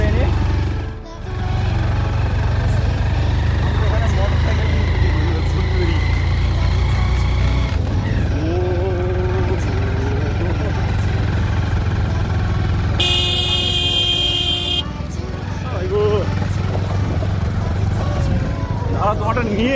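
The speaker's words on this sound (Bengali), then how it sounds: "আমরা এখানে মোটর সাইকেল ভাড়া করে এনে" Hired motorcycle ridden near the beach at Digha–Talsari, a steady mid-pitched engine drone with road and wind rumble throughout, a brief horn blast partway, and people talking over it.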